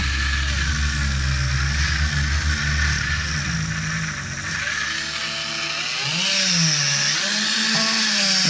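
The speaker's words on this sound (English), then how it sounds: "Now I can take my Dremel with the stainless wheel" A Dremel rotary tool fitted with a stainless steel wire wheel scrubs grime off a Husqvarna 372 chainsaw part during a rebuild, giving a steady, loud whirring buzz that dips briefly midway and then rises again in pitch.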